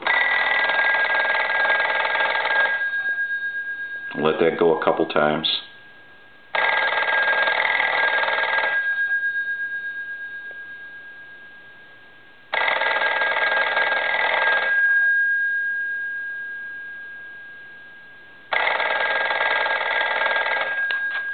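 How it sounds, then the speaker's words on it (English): A Western Electric 302 desk telephone bell rings loudly in several long bursts separated by pauses, with a brief burst of speech between the first and second rings. "I'm going to go ahead and ring the phone now"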